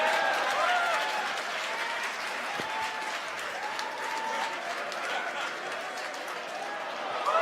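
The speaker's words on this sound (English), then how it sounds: "if you guys can hear the cheer in the background from my team members" Team members cheer and applaud in the background during live SpaceX CRS-16 launch coverage, a steady crowd roar lasting throughout with voices mixed in.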